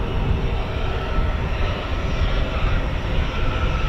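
A T-tail aircraft flies past during a King's Birthday flypast rehearsal, its engine roar loud, broad and sustained from start to finish.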